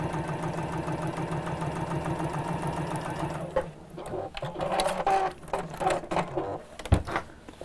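A sewing machine stitches around the edge of a gift bag with a tiny 1.2 stitch length, a steady close mechanical whir that stops partway, followed by scattered handling clicks.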